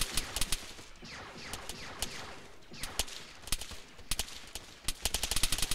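Bursts and single shots of gunfire in ARMA 3 during a Star Wars–themed invasion of Earth, crackling repeatedly over about six seconds, some sharp and close, others quicker volleys, with no talk.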